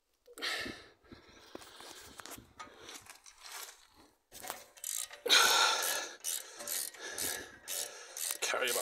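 A hex key ratchet loosens the rear brake caliper bolts on a SEAT Leon with an electronic handbrake, giving intermittent close clicking and rasping turns in short bursts with pauses between them.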